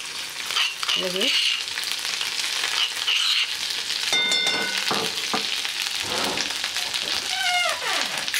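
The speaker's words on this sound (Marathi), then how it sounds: "आता आपण भाजीला फोडणी करून घेऊया. तेल टाकलं आहे कढईत." Ground spice paste for misal pav sizzles and spatters in hot oil in a kadhai, a loud steady frying hiss with stirring scrapes and brief speech.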